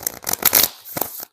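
A deck of oracle cards is shuffled by hand in a few quick riffling bursts of papery flicks, close up and brief.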